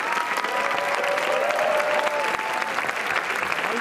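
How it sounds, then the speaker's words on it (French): Steady, dense applause from a crowd on the Cannes Film Festival red carpet, continuous and fairly loud throughout with a faint tonal whine running across the middle. "Voilà, beaucoup d'applaudissements."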